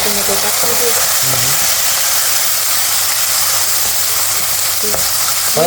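Ginger, garlic and tomatoes fry in a pan with a steady, loud sizzle and hiss close by, while voices talk faintly over it.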